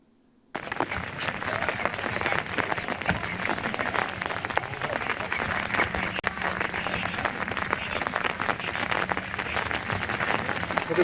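Torrential rain pours in Kashmir after a heavy downpour, a dense, loud and steady hiss of water hitting surfaces that holds unbroken for the whole stretch, with no voices over it.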